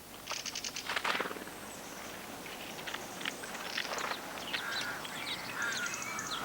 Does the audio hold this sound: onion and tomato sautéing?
no